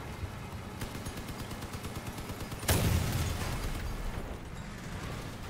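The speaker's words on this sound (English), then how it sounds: "Damn, this cannon doesn't do much damage." A vehicle cannon in the video game Crossout lets off one loud booming blast over steady rapid gunfire, with a short spoken exclamation heard in the mix.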